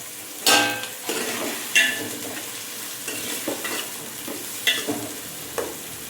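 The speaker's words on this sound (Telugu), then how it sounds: "ఇప్పుడు అవి ఫ్రై అవుతాయి కదా" Vegetables sizzle in a pan with salt for a fish curry, a soft steady frying hiss broken by several sharp scraping stirs of a spoon against the pan.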